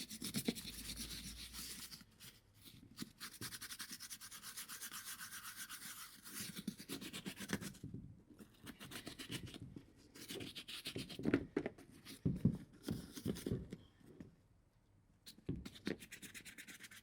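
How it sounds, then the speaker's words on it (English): A brush scrubs leather and synthetic hiking boots with cleaning gel in continuous quiet, close strokes that rasp back and forth with brief pauses, and no one speaks. "scrub the leather and any synthetic material"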